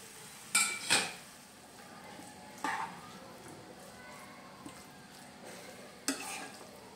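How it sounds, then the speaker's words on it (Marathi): Boiled pasta goes into a pan for a creamy pasta and gets stirred with a utensil, producing a few sharp clinks and scrapes against the pan over a faint, quiet background. "आता ह्याच्यामध्ये टाकते पास्ता आपला जो आपण बॉईल करून घेतलाय तो टाकते"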